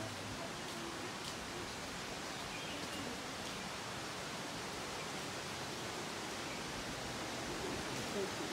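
Broadband steady rush of the Wailele waterfall in Waimea Valley, a continuous wash of falling water heard from nearby, with faint voices now and then underneath.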